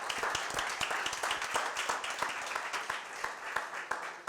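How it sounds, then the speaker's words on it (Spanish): Scattered applause in a church service, distinct individual claps from a modest congregation ringing out at an uneven rhythm, fairly quiet and slightly distant, with no talking. "Un aplauso al Rey."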